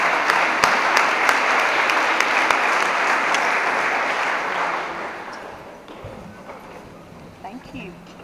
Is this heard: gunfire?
no